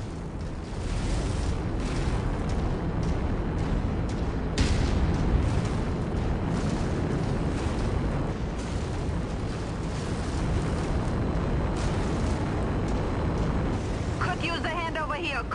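A mech in MechWarrior 5 firing weapons amid explosions, a dense, continuous roar of booms and blasts throughout, with radio voices talking under the din.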